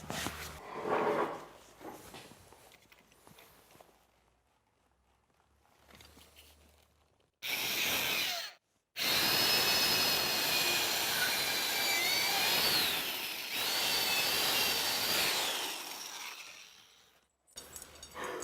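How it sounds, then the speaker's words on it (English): A power drill bores a hole into the center of a sanded wooden handrail post on a new deck, heard as loud, sustained whirring bursts with a brief stop in between. "Drill a hole."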